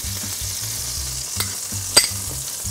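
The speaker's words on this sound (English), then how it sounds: "I'm going to add just a little more olive oil here to the pan and a little bit more butter" Olive oil and a tablespoon of butter sizzle steadily in a pan holding browned bits from veal, a close continuous frying hiss with a few brief utensil clinks and no voices.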